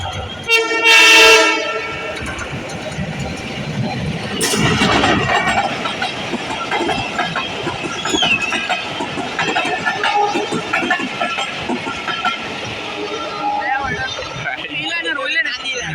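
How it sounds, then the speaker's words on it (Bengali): A loud train horn blasts near the start, then a train rumbles and clatters past at close range, with a second horn and voices audible over the roar. "আমরা আবার একটা ট্রেন এলে আবার দেখাইতে পারি"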